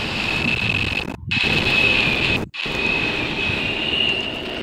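Subway trains in a Roblox game racing side by side, a steady loud rumble with a high whining tone, broken by two brief dropouts.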